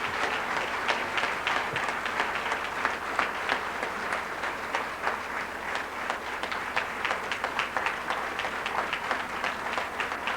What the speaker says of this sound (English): I want to hear a big round of applause for all those people